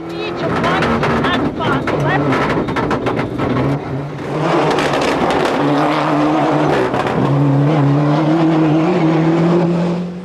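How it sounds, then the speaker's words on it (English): A rally car at the 1998 Donegal International Rally roars past up close through a village, engine revving hard through gear changes, with tire noise and crowd sounds over a commentator's voice. "James is driving the socks off the Four Lanterns car as we enter the village."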